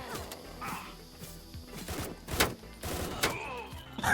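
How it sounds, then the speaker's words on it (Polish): A flashbang goes off in the co-op shooter game Door Kickers: Action Squad, with sharp bursts and crashes amid busy gunfire and game effects. "Ten flashbang od razu wybucha"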